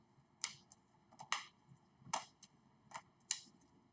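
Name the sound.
oracle cards being shuffled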